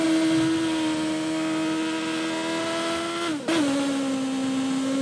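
A motorbike races in Burnout Paradise Remastered, its engine holding a steady high drone; around the midpoint the pitch dips sharply with a brief gap, then climbs back up to a sustained whine.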